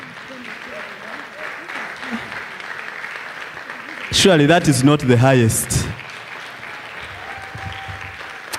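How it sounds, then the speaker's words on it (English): Conference audience clapping hands at an African literacy conference, a steady broad wash of applause across the hall, broken midway by someone speaking loudly over it before the clapping carries on beneath. "You clap enthusiastically."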